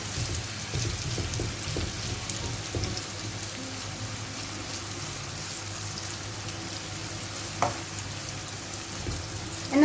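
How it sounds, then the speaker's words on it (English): Chicken pieces frying in a non-stick frying pan, a steady close sizzle and crackle throughout with a few soft knocks and one sharp clack near the end, no talking. "all I'm going to do now is just fry it until it's cooked."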